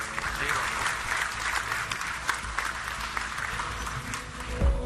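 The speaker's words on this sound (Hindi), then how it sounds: "आज सुबह 9:10 पर मिशन के सफल लॉन्च के बाद सतीश धवन स्पेस सेंटर तालियों से गूंज उठा" A crowd applauds at the Satish Dhawan Space Centre after a successful PSLV rocket launch, a continuous wash of clapping that runs throughout under a speaking voice.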